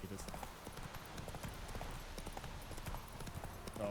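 Hooves of the horse Roach galloping in The Witcher 3, a fast continuous clip-clop close up, with a person talking over it throughout.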